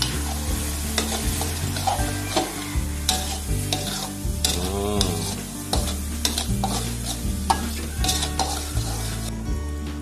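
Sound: fish sauce sizzling in frying pan while stirring

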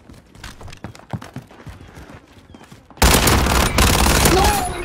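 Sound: R9 gunfire in a video game

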